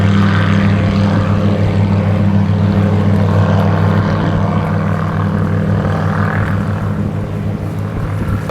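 ICON A5 light amphibious aircraft in flight, its propeller engine a loud, steady drone with a strong low hum that holds throughout, heard from inside the cabin with no talk.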